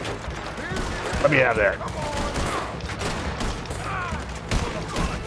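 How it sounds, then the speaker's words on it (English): Rapid machine-gun fire from a Gatling gun during a bank robbery shootout in Red Dead Redemption 2, sustained bursts and gunfire clatter running throughout under a voice speaking. "It's a Gatling gun."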